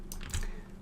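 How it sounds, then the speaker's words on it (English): A single press of the Home key on a computer keyboard while working in Blender, one close, short click over faint room noise. "if I press home on the keyboard, that will frame everything"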